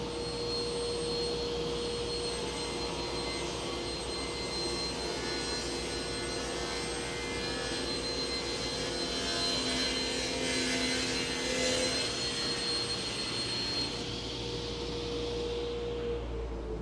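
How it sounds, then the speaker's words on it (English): A track saw cuts through a thick butcher block top while a dust collection system runs, producing a loud, continuous whining roar with steady tones that holds throughout before easing off near the end. "I hit dust collection and make the cut, or Rob's going to hit dust."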